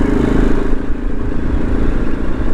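A Kawasaki KLR motorcycle rides along in cool weather, its engine a steady, loud, low rumble with wind and road noise blended in throughout.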